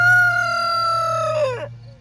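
A rooster in a flock of Buff and Marans chickens crows once, close and loud, in a new farm coop. The long call falls away at the end over a steady low hum.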